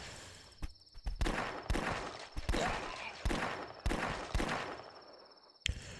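Revolver gunshots in The Last Stand zombie flash game, a series of sharp bursty shots in irregular rhythm, loud and alone.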